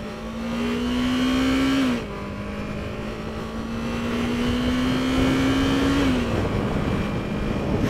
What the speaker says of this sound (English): rev this little 300cc on a 45 mile an hour road